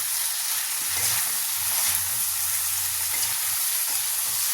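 Carrots, capsicum and other cut vegetables frying for a mushroom curry, a steady broadband sizzle with faint stirring knocks underneath, close and continuous, no talk.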